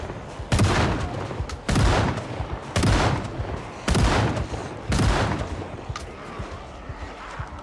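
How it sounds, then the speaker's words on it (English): Shotgun blasts in a video game, five loud, heavy booms spaced roughly a second apart, each with a short decaying tail, close and dominant. "the shotguns are really fucking loud"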